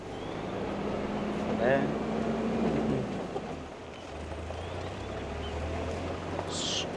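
A safari vehicle's engine runs with a steady low rumble and broadband drone, with people talking over it throughout.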